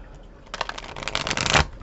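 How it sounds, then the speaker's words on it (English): A deck of tarot cards being shuffled up close, a quick papery riffle and flutter that builds over about a second and a half, with no voices. "Gonna shuffle a few times."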